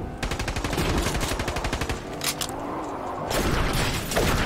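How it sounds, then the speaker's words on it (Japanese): Rapid automatic gunfire in the video game Fortnite sounds as a fast, dense string of sharp shots, broken by a brief pause and then another burst, loud and with no talking. "銃声を聞いて敵がやってきた。"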